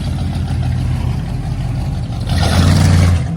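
A big classic Cadillac's engine idles and rumbles nearby, then revs louder for about a second before easing off, with no talking over it.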